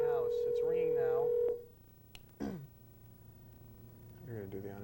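A telephone rings during a late-night radio call-in show, a steady electronic tone sounding clearly under the talk before cutting off, followed by quieter speech from the studio.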